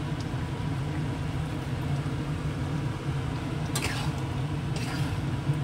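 Jackfruit curry frying in a pan as ghee and a pinch of garam masala are stirred in, a steady close sizzle with soft scraping strokes and a couple of brief clinks.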